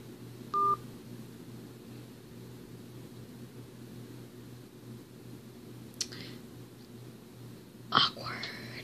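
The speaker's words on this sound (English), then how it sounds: "I'm gonna type in scary phone numbers to call." Phone keypad tones sound as a few short, sharp beeps spread apart over a quiet background hum, with faint whispery voices in between.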